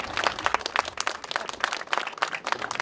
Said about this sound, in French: Voilà, on peut l'applaudir.